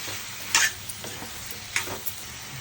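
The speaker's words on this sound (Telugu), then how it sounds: "ఇప్పుడు ములక్కాయలు వేసుకుందాం. కొంచెం వేగాలి, పచ్చివాసన పోయే వరకును." Drumstick pieces frying in a pan with cooked cucumber for a curry, giving a faint steady sizzle with a few louder stirring scrapes, close by and with no talk.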